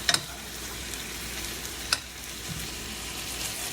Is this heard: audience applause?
no